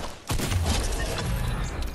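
Pistol gunfire in the Fortnite Battle Royale video game, loud and close, with a sharp shot leading into a sustained dense burst of game noise lasting about two seconds, no voices.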